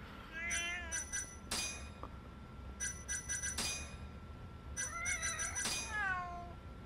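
Cats meow repeatedly in the video game Judgment, in three bursts mixed with bright, bell-like chiming tones.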